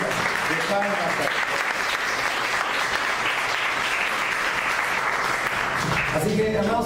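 A church congregation gives sustained applause offered to Jesus during a Spanish-language service, a loud, even wash of clapping that holds throughout, with a voice speaking briefly at the start and again near the end.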